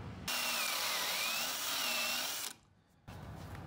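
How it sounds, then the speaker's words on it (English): A step drill bores pocket holes in wood for a floating platform bed frame, a loud steady whirring grind for over two seconds, then a brief pause before the drill starts up again. "We've got the step drill in there."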